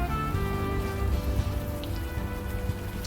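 Steady, dense rainfall patters on surfaces in the video game Unavowed, a continuous loud hiss with faint tonal background music underneath and no voices.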